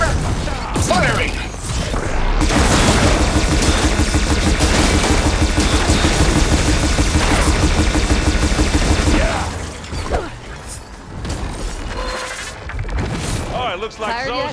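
Rapid gunfire in Horizon Forbidden West crackles in a long, loud, continuous volley, then fades to sparser shots and voices over ambient game sound.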